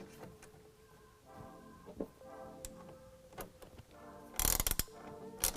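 The center clamp of a TruXedo Pro X15 tonneau cover is hand-tightened on the rail of a 2022 Ford Maverick, giving quiet ratcheting clicks and creaks, then a louder cluster of clattering knocks near the end.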